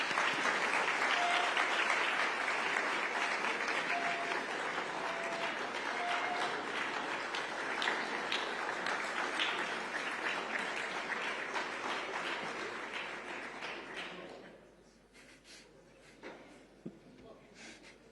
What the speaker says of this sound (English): You can give them a big round of applause.